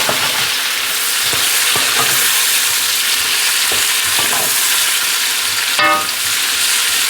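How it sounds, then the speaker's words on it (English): Onions tossed into a hot pan after grilling pork belly and chicken give a loud, continuous sizzle, with scattered clunks as the pan is shaken and a brief metallic scrape near the end. "And we'll get our onions in. Give this pan a little shake."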